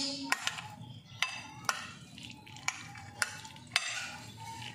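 Cabbage and other vegetables mixed together in a bowl as sandwich filling, giving a run of sharp clinks and scrapes roughly every half second over a soft steady rustle, close and fairly quiet, with no talking.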